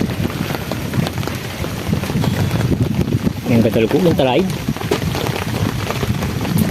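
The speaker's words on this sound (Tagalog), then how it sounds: "Nabutan kami ng ulan mga idol." Rain falling outdoors during a thunderstorm on an overnight hunting trip, heard as a constant broadband patter with some wind noise on the microphone, while someone talks over it.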